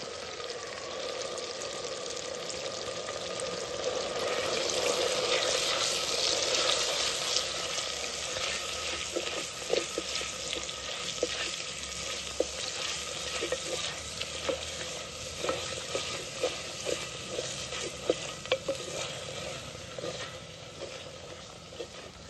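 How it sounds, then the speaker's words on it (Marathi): A ground masala paste sizzles and fries in oil for an egg curry while a spoon stirs it repeatedly, with continuous close frying hiss broken by regular scraping strokes against the pan. "सगळा आता मसाला परतून घेतला मी चांगला तेलात."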